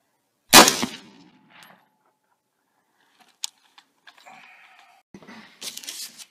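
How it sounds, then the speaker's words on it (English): A single sharp, loud rifle report from a 16-inch-barreled AR-15 fitted with a 3x9 scope, firing .223 PPU 55-grain soft point ammunition at a block 40 yards away, followed by faint clatter and small knocks. "We're going to shoot the block with 223 55 grain soft point monarch at 40 yards."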